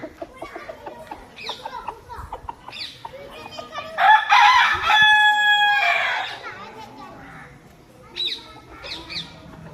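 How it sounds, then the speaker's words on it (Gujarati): A rooster crows loudly in a long, drawn-out call at an old stepwell near Bahucharaji, Mehsana, with other clucks and bird sounds and some background voices before and after. "વલ્લભ ભટ્ટની વાવે કુકડાનો શંખનાદ"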